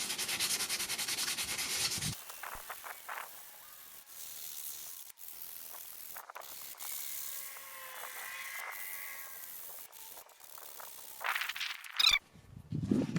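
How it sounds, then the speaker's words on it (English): Close, rhythmic rasping of wet sandpaper scrubbing a steel axe head, in repeated short strokes with brief pauses between bursts. "Probably a minute and a half of sanding, maybe 2 minutes"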